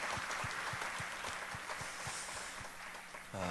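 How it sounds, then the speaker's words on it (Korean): Church congregation clapping at a Wednesday service, a steady patter of many hands held at moderate distance, tapering slightly before a brief tonal swell at the very end. "박수 한번 하겠습니다."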